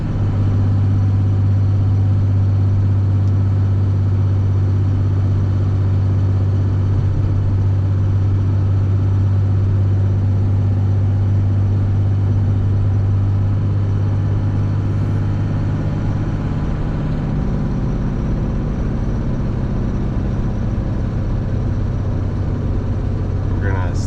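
A car drives on a snowy road during the 2021 Texas winter storm, its tyres slightly deflated for traction, giving a loud, steady engine and road rumble throughout with a low drone that drops in pitch as it slows.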